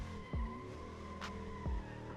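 A BMW E30 touring car with a V8 engine in the racing game Assetto Corsa, the engine humming at steady revs with a couple of short tire squeals and thumps, fairly quiet overall.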